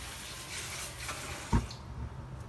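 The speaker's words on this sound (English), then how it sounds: "Now you see the thing is bubbling" A pot of tamarind curry for a vegetarian fish curry simmers with faint, continuous bubbling, punctuated by one brief louder pop midway, heard close with no talking.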